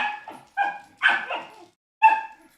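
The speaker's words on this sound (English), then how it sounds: "the dogs are having an argument now" Two dogs bark and yip at each other in short, sharp bursts, close and loud, with brief gaps between the volleys.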